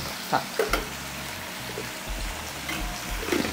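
Chicken fries in a pan with a steady close sizzle, broken by stirring scrapes and low bumps of the spoon against the pan.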